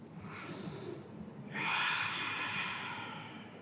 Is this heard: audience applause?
no